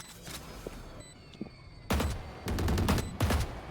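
Bursts of rapid gunfire from the video game Valorant crack out in a few quick volleys, with scattered single shots before them, loud and close.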